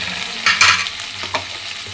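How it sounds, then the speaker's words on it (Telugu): Ridge gourd curry frying in a pan, heard as a soft sizzle broken by a couple of brief, louder bursts of stirring and scraping, close by and with no voices. "ఇది కొద్దిగా పచ్చివాసన పోయేంత వరకు మనము వేయించుకోవాలండి"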